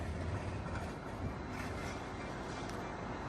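A tram moving past Flinders Street Station in Melbourne, a steady, rumbling broadband roll of wheels on track, close and continuous with no pauses.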